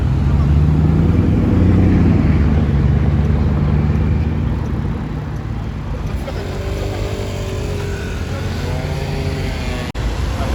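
Two Ferrari Testarossa Lotec supercars driving past, a loud engine roar that rises and falls, then fades into the distance, with a brief sharp click near the end.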